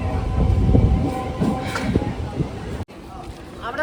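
A crowded MEMU passenger train runs along the line with a rumbling, rattling roar and a brief cut midway, while people talk over the noise inside the carriage.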